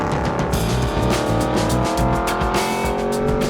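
A 2007 Aston Martin V8 Vantage drives hard nearby, its V8 revving in rapid pulsing bursts over tyre noise and a bright, sustained engine howl.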